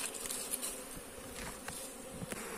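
A queenless honeybee swarm at the hive gives a steady, dense buzz, close and continuous, with a few brief louder flickers over it.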